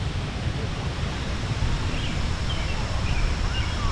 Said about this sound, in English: You hear the water run